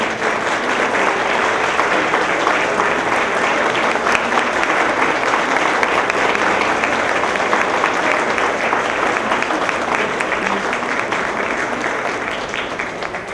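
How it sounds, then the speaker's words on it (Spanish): Sustained applause from an audience at a recognition ceremony fills the room loud and steady for the whole stretch, with no one speaking over it. "Y gracias a ustedes por este aplauso"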